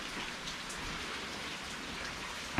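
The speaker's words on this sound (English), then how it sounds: "Oh yeah, more rain." Steady rain downpour falling outdoors near a Cub Cadet lawn tractor, a dense even hiss throughout, close and continuous, with a brief louder knock at the very end.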